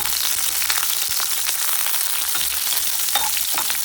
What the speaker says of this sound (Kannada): ಈಗ ಈ ಎಣ್ಣೆ ಬೆಂದಿದೆ, ಈರುಳ್ಳಿ ಹಾಕೋಣ. ಈಗ ಚೆನ್ನಾಗಿ ಫ್ರೈ ಆಗುತ್ತೆ